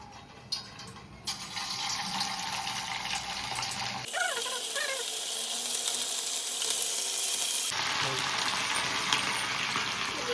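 Marinated chicken pakodi pieces sizzle and crackle in hot oil, a dense, steady hiss that rises as the pieces go in and continues throughout.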